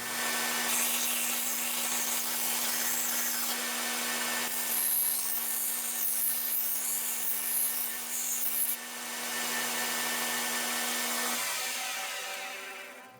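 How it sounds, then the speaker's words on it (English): A belt grinder runs steadily while softening the edges of a small metal part for a Yeti cooler thermometer mount, giving a continuous abrasive whir and grinding rasp that holds nearly the whole time and drops off at the end. "Now we're at a belt grinder and we'll soften all these edges."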